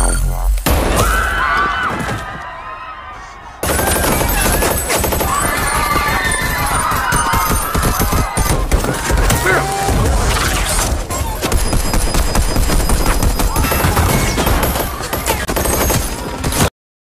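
An intense, chaotic exchange of gunfire in the film Outside the Wire, with rapid bursts, crashes and shattering impacts, loud and nearly continuous after a brief lull.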